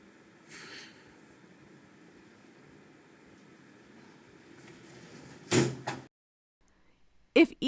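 Hands slammed down onto the back of a wooden stool in a family home, two sharp loud thuds late in the clip after a quiet stretch with low background murmur, followed by another burst at the very end.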